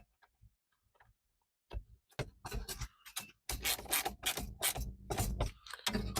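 A ratchet tightening plastic stereo mounting bolts in a Dodge Dakota, quiet at first, then a run of close, rapid clicking and rubbing strokes.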